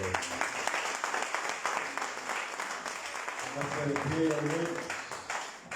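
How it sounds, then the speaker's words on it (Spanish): A congregation applauds during a Spanish-language church service, a steady wash of many clapping hands at moderate level, with a voice speaking over it toward the end. "Denle una prenda de palmas al Rey de Reyes"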